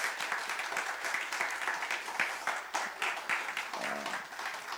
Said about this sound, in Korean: 감사의 박수로 또 영광의 박수로 하나님 앞에 올려드리면 어떨까 싶습니다.